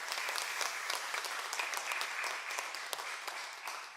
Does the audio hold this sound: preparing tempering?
no